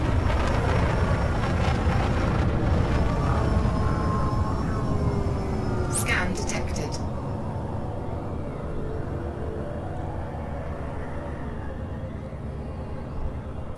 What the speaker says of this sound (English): Just taking off from a space station.